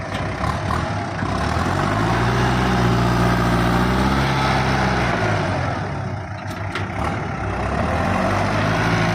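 A Kubota M5000 tractor engine drones steadily and loudly at close range, its deep diesel rumble rising slightly in pitch and then easing, with no talking.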